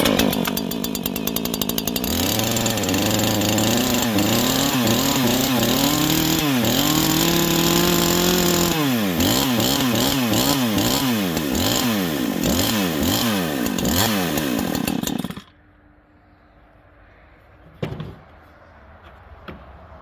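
A NEO-TEC NH843 chainsaw engine runs loud and close, revving up and down repeatedly with changing pitch before dropping abruptly to a quiet idle, with one brief blip of throttle near the end.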